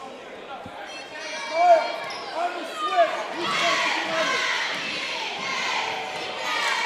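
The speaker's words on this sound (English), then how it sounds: "You can hear this, you can hear this Clark crowd cheering on." The home crowd roars at a boys' varsity high school basketball game late in a close contest, a broad sustained cheer mixed with shouts and sneaker squeaks in a gym, with someone talking over it.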